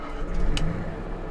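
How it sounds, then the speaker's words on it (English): An RV generator runs steadily just after being started, a loud continuous engine drone with a low hum that holds throughout, alone without talk. "So the generator is running."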